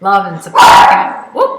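A pet dog at home lets out one loud, close whoop-like bark in the middle, with a short yip after it. Someone talks just before and after the bark.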